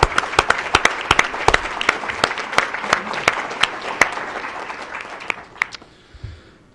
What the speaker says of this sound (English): Let's give everybody a round of applause for the willingness to serve.